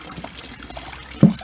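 Water splashes softly at the outlet of a garden pond, a brief trickling patter that ends in a single louder plop, with no voices.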